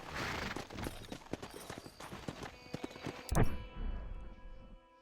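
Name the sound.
horse hooves in the video game Red Dead Redemption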